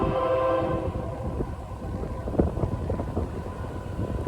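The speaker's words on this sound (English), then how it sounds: "There's a train." A train rumbles by at close range, with a brief horn-like tone at the start and clattering wheel noise continuing throughout.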